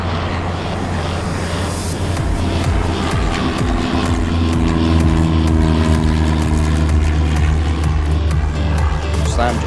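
Aircraft taking off in an air traffic control game set at SFO, a continuous droning engine roar with rising tonal whine, loud and steady, layered under ongoing talk.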